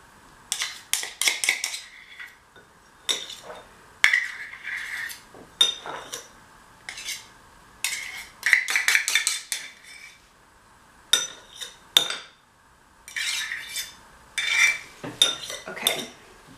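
Coconut oil and arrowroot powder being stirred in a bowl, a spoon clinking and scraping against the sides in repeated short bursts separated by brief quiet gaps, close and fairly crisp.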